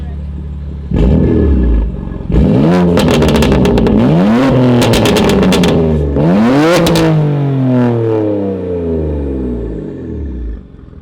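A BMW M2 Competition's exhaust, valves open, revs hard in several loud, rising bursts, with sharp crackles between pulls and a deep rumble settling back down.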